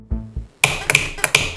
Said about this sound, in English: whenever I held or clicked hard, my desk would start squeaking